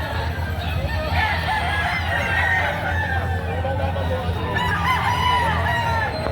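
Many chickens cluck and crow in a dense, steady din at a busy poultry market where young stag roosters are sold, with voices talking faintly underneath.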